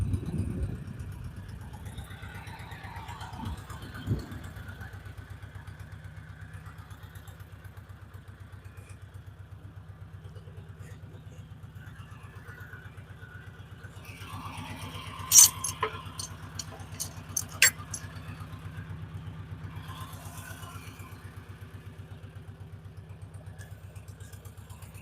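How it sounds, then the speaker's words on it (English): A tractor idles and backs up at a sawmill: a low, steady engine rumble at moderate distance throughout, with a short burst of metallic clanks and clatter partway through. "unhook this tractor tongue off that log and back the tractor up"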